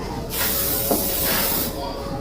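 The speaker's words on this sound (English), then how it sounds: "I'll use Johnny's Fix Power Hold Hairspray." Johnny's Fix Power Hold hairspray hisses out of its can in two close, bright bursts, the first longer and the second starting near the end, each a sharp airy spray sound.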